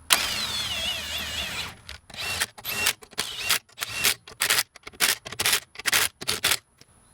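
A power tool tightens wheel bolts on a car being fitted with lightweight wheels: after a sustained whirring run, a quick series of about ten short, sharp bursts follows, each separated by brief silences.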